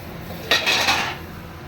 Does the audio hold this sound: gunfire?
no